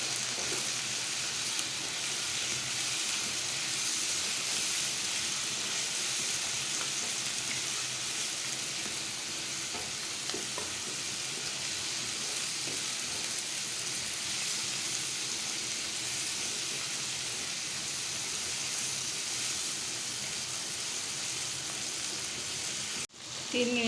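Shrimp fry in a pan with chopped green chilies and a pinch of baking soda. A continuous, even sizzle hisses for the whole stretch, with faint stirring scrapes and a brief clatter at the very end.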